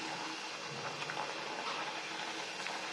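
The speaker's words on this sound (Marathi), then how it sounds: "हे पहा, इथं अशा तळत आहेत ह्या पुऱ्या." Puris deep-frying in hot oil on a medium gas flame, giving a steady, dense sizzle and bubbling crackle that stays close and even throughout, with no talking.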